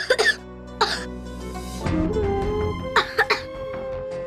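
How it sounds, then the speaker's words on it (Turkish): A child coughs several times in short, sharp bursts separated by pauses, close up, with a strained wheezy cough in the middle. "Baba, bakar mısın? Öksürüyor."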